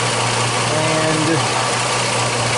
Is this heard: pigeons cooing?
no